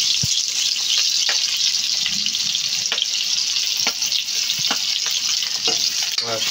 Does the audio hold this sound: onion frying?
yes